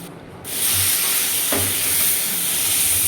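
Potato and eggplant curry sizzling as it is sautéed in a pan, a loud continuous frying hiss that swells after a quieter start, with a faint stir partway through.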